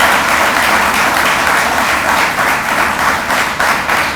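Loud, dense clapping from a crowd at an award ceremony, continuous and close for the whole span with no voices on top.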